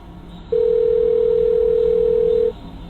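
A steady telephone dial tone sounds while a call is placed, one clean continuous tone of about two seconds, loud and close, rising above a quiet room background.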